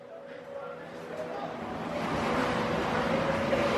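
Calm ocean surf at sunset sounds from a balcony as a steady broad wash of waves and wind, growing slightly louder, distant and continuous with no distinct breaks.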